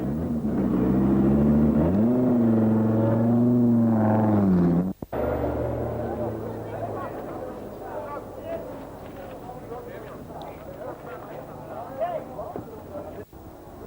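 A Peugeot rally car engine at the 1984 Lombard RAC Rally revs hard and rises in pitch, loud and close for about five seconds, then fades under a voice talking over quieter background noise.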